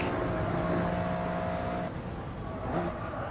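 A Toyota GR Yaris engine revs hard on the Nürburgring, a loud steady in-car drone holding high revs. It drops briefly as the tone shifts, then climbs again.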